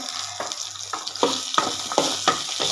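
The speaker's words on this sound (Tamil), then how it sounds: "தக்காளி போட்டாச்சு தக்காளி நல்லா வணங்கட்டும்" Tomatoes frying in oil with coconut and tamarind for tomato chutney, a close sizzle broken by a regular series of stirring scrapes, about one every half second.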